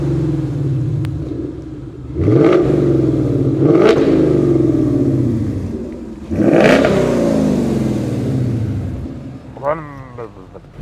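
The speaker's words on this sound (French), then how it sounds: "Allez, vas-y, mets-nous un petit coup de gaz." V8 car engine revved several times on request, each throttle blip swelling into a deep rumbling roar before settling back to idle, loud and close.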